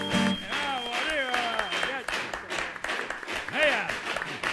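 Applause welcoming a guest onto a music program, clapping from a studio audience running beneath animated, overlapping voices and cheering, with the crowd noise swelling and dipping throughout.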